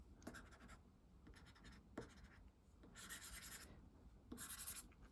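A stylus scratching across the e-ink screen of a Boox Go 10.3 Gen II Lumi tablet, with short rubbing strokes in separate bursts, quiet and close, with no one talking.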